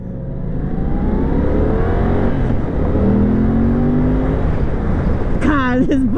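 A Yamaha R7 sport motorcycle accelerates hard in a loud, sustained engine roar, with its pitch climbing steadily as it runs through the gears, heard close from the rider's position.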